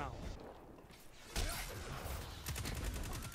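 Rapid gunfire in the Destiny 2 Crucible multiplayer beta on Xbox, a sudden burst of shots then quick repeated cracks, under a person talking.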